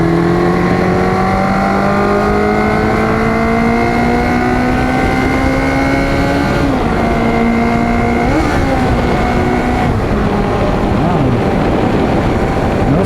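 Kawasaki Z400J motorcycle engine on a test ride after a new clutch cable, loud and close, revving steadily upward through the gears with rising pitch, a few shifts breaking the climb, no talking.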